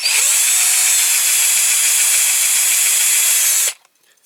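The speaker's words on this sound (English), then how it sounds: "because you're using a smaller drill" A small drill bores a headlight hole in a Dinky Toys Morris 1100 model car, a steady high whine running close and loud for several seconds before cutting off sharply into near silence.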